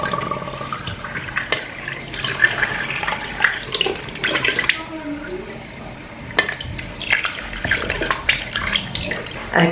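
Tap water runs steadily into a sink while a tissue face mask is washed off, with splashing and shifting flow as hands move under the stream, no talking.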